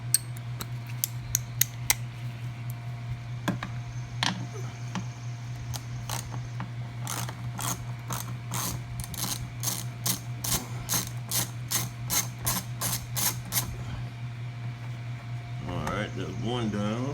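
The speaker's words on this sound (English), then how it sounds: "you're going to need a 11mm socket to take those off." An 11mm socket on a ratchet loosens bolts on a 2005 Lincoln Aviator 4.6L engine, giving rapid close clicking bursts of the pawl, repeated in runs with pauses between, over a steady low hum.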